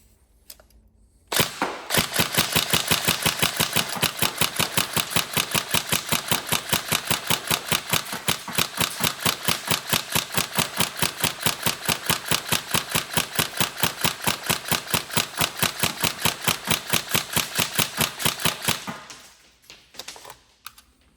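A Tokyo Marui 416 Devgru NGRS electric airsoft rifle fires one long full-auto burst of about seventeen seconds, a loud, fast, even mechanical rattle close up, starting and stopping abruptly.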